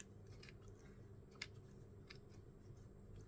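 Quiet scissors snipping through paper, a few soft, brief cuts with one sharper snip, over a low steady background hum.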